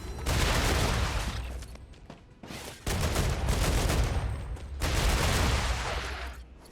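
Assault rifle fire from the Star Rupture video game comes in loud, dense automatic bursts, three long volleys separated by brief pauses, close and dominant.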